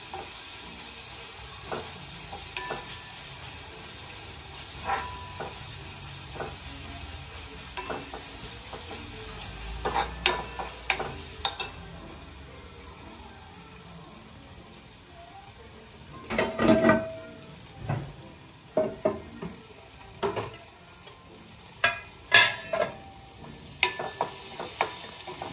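Radish paratha filling is sautéed in oil in a pan over a low gas flame, with a steady soft sizzle and frequent clinks and scrapes of a spoon stirring against the pan.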